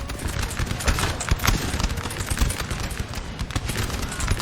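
Dense musket volleys crackle in a Napoleon: Total War 4v4 battle, a continuous rolling din of massed gunfire from line infantry with no clear gaps.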